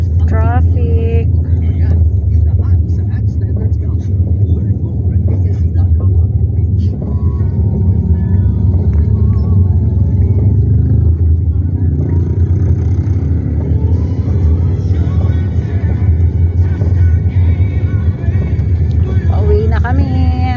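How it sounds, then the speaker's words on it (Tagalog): Continuous low engine rumble of congested road traffic along Commonwealth Avenue in Metro Manila, with passing cars and occasional revving heard from inside a vehicle, steady and loud throughout while a person talks over it. "Ito yung traffic sa Pilipinas."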